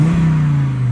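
Volvo 850R five-cylinder engine burbling through an IPD turboback exhaust, a steady low drone heard close and loud for under a second, with no talk.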